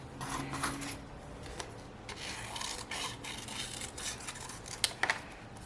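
Scissors cutting paper into shapes for a collage, a close, soft rasping and rubbing with occasional sharper snips near the end, quiet and alone.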